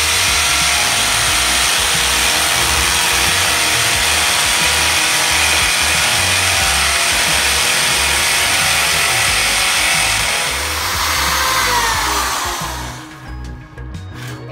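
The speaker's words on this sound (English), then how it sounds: "I learned this plastic hack for drilling from Lehlohonolo Khumalo." A power drill drilling through plastic whirs continuously and loudly, grinding steadily for a long stretch before spinning down and stopping near the end.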